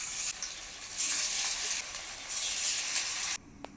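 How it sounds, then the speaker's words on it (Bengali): Banana flower fritters sizzle steadily in hot oil, a dense continuous frying hiss that swells and eases a few times before cutting off near the end. "একইভাবে বাকি বড়াগুলো ভেজে নেব"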